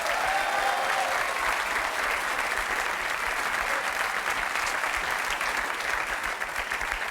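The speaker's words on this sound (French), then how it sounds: "Je voudrais qu'on applaudisse fort Homer!" A French TV game-show studio audience claps loudly and steadily throughout, a dense, even wash of applause with no break and no talk.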